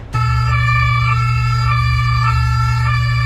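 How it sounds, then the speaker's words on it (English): Brunei's national emergency alert alarm, an ambulance-style siren with a steady layered electronic wail that starts abruptly and holds loud and unbroken, with no voices. "They just took the sound of an ambulance and were like, yep, that's our alarm."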